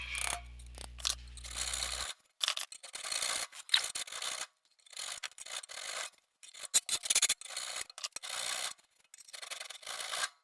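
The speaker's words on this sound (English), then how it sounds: "After grinding a lot of the fullers on the grinder, I moved to files to try and get the rest of the way there." Hand files rasp back and forth along the fullers of a steel sword blade, in repeated close, loud bursts of scraping strokes with brief pauses between them.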